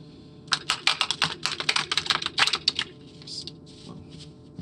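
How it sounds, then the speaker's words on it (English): Playing cards riffled and shuffled by hand indoors, a rapid run of crisp flutters and snaps over about two seconds, then quieter taps as the deck settles, close and fairly loud with no talking. "We're just trying to shuffle the cards."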